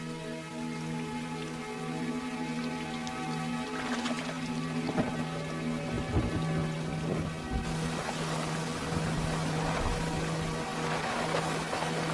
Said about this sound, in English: Spring storms are common and can last for days.